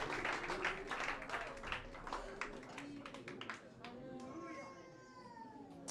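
Church congregation at a Sunday service clapping, a fairly loud burst of applause in the first few seconds that tapers off as sustained musical tones take over, heard at modest overall level.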